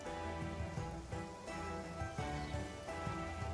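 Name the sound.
rain falling upwards in the video game Genshin Impact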